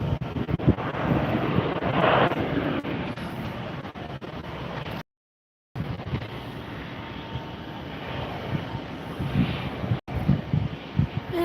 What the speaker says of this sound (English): We are watching a Bombardier Challenger 300 that just came in.